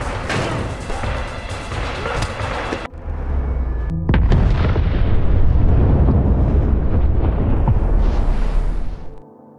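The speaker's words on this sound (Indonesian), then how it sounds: "perkelahian itu menjatuhkan sebuah tabung nitro yang mengakibatkan terjadinya ledakan" A loud, rumbling blast from a nitro canister exploding in a film, with crashing debris, a brief pause, then a second heavy roaring burst that slowly fades out.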